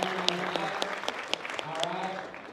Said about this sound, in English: Give it a clap up for y'all real quick